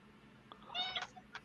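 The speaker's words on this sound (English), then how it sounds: "somebody's cat sounds unhappy" A house cat gives a short, unhappy, drawn-out meow with a smaller cry after it, heard faintly and alone against a quiet background.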